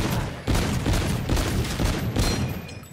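A gun fires repeatedly in the zombies mode of the video game Infinite Warfare, a loud close burst of rapid shots that keeps rolling through to the end with short uneven pauses.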